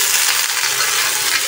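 Vegetables hiss and sizzle loudly in hot oil with crushed ginger and garlic, a dense, continuous frying crackle that holds steady from start to finish with no voice over it.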